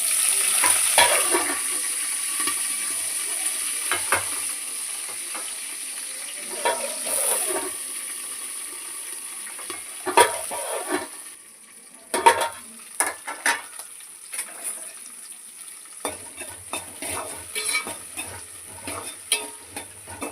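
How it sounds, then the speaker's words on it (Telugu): Chopped green chillies frying in a pan for gongura chutney, a continuous close sizzle broken by repeated spatula scrapes and clinks against the metal, quieter toward the middle, no talking. "పచ్చిమిర్చి అయితే కొద్దిసేపు వేగనిద్దాం"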